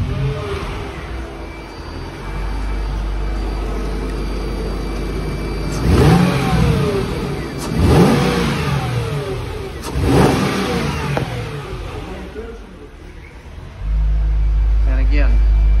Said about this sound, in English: healthy, throaty sound from the exhaust